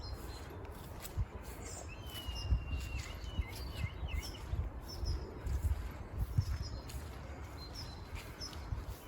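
A kite calls from a tree, its thin high whistling cries repeating through the clip, with another answering faintly in the distance over a low rumble of wind and handling noise.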